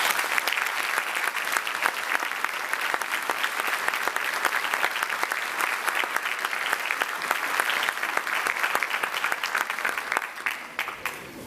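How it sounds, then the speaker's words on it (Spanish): An audience at a book presentation event applauds, many hands clapping in a thick, continuous round that stays strong for about ten seconds before beginning to thin out. "yo les pido un aplauso para ellos"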